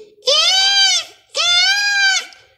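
A story sound effect for a rabbit's scream: two long, loud, wavering bleat-like cries, close and clear with a short pause between them.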